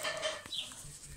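A silkie rooster clucks and murmurs faintly at close range, with short soft calls in an outdoor run.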